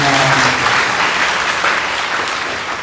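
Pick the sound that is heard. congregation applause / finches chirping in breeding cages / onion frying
congregation applause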